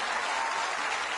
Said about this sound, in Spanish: yo quiero pedir un aplauso para sus diamantes, para Feiban y Raquel, para Raúl y Natalie y para todos sus líderes